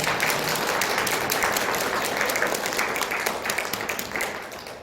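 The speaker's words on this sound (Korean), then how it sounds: "박수로 환영하겠습니다" A church congregation at a Sunday worship service applauds to welcome a returning member, a sustained wash of many hands clapping together at even loudness that fades slightly toward the end.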